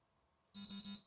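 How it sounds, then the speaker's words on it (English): A PlayStation 3 console with error code 8002F957 beeps three times in quick succession. The short, piercing, evenly spaced tones come after near silence and are heard alone and close. "Beep, beep, beep."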